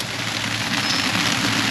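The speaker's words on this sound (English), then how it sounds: "That's hail." Small hail pellets falling at about 4,000 meters in Bolivia give a steady, dense hiss of tiny impacts. It is loud and continuous throughout, with no voices.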